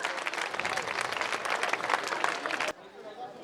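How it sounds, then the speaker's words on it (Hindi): At a Navodaya Vidyalaya school alumni meet in Mandsaur, the gathered alumni clap loudly to welcome a senior teacher. The dense applause cuts off sharply after about three seconds, leaving quieter room sound with a faint voice. "एक बार मैं पूरी एल्यूमिनी से बोलूंगा कि जोरदार तालियों से सर का स्वागत किया"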